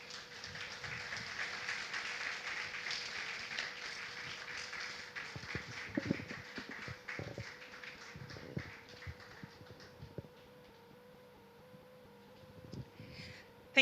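An audience claps for a keynote speaker at a breakfast dialogue event. The applause is full and broad at first, then thins and fades over several seconds, leaving a faint hum and a few scattered knocks.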